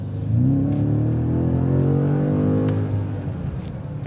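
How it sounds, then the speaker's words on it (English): A 2026 BMW M5 plug-in hybrid sedan accelerates hard with boost engaged, its engine note climbing steadily in a loud, continuous rising roar with no talk over it. "Now we got the boost engage."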